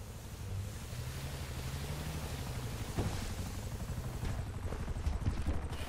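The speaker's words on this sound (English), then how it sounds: "A helicopter has been dispatched to your area." A helicopter arrives in GTA V Online, its rotor thumping as a steady low chop under a broad wash of wind and sea surf, growing a little stronger toward the end.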